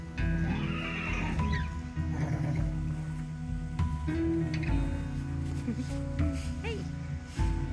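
A small, sturdy Taishu horse from a remote Japanese island whinnies and snorts several times close by. Shuffling and hoof noises and some background voices run under the calls.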